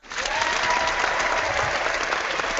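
Brief burst of audience applause, steady and close, clapping from a small crowd with no talking over it.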